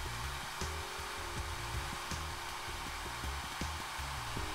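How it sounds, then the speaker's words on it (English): A hair dryer blows with a steady, loud whooshing roar, joined by faint, regular ticking knocks. "So I'm using a hairdryer, blowing only from the top."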